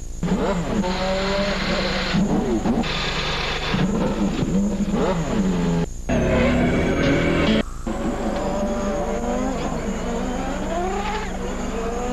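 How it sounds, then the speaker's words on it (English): Many CART Indy-style race car engines fire up and rev together on the grid at the 1996 Long Beach street race, a loud, sustained roar with rising and falling revs throughout. "Gentlemen, start your engines."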